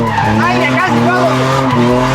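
A car drifting at full throttle, with loud sustained tire squeal and skidding over a high-revving engine, close and continuous; a voice talks briefly over it.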